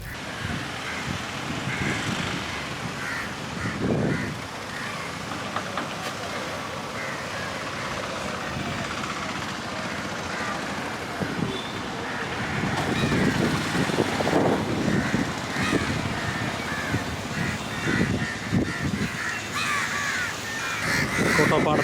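Crows caw from a banyan tree at Kottappadam, where pigeons also gather, repeated harsh calls rising above outdoor ambience and passing traffic, with someone talking over much of it.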